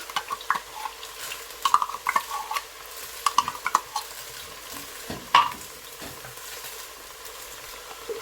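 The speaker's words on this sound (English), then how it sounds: "You have to add your tin tomatoes inside." Tinned tomatoes are stirred into a frying Nigerian chicken stew, with a spoon scraping and tapping the pot in irregular bursts over a low steady sizzle, close by with no talking.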